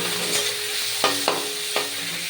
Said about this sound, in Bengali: তো এটাকে একটু ব্রাউন করে ভেজে নেব।